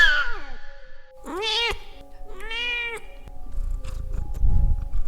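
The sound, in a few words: cat making strange yowling sounds, horror story sound effect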